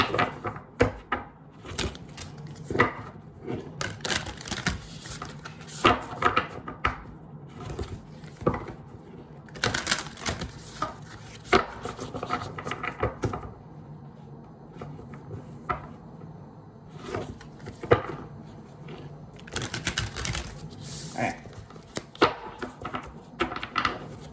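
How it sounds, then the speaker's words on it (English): Deck of Black Moon Astrology oracle cards being shuffled by hand, in several bursts of crisp riffling and slapping card sounds separated by short pauses, close and fairly quiet, no talk. "Last oracle, Black Moon Astrology. I'm going to shuffle it 4 times."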